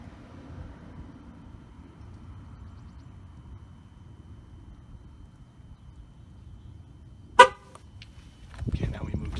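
A single short honk from a GM car's horn sounds near the end, set against a quiet garage background during TPMS sensor programming, followed by a brief burst of noise.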